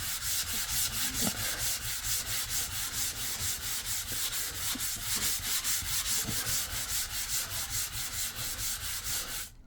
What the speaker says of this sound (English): So I've got to sand it.